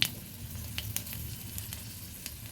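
Two dried red chillies, one split and one whole, sizzle in hot oil for a Bengali chingri chalkumro dish, giving a steady close hiss with scattered small crackles and pops throughout, no voices.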